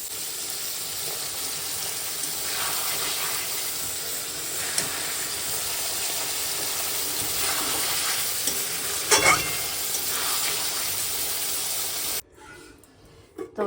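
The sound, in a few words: sautéing meat in a pan while stirring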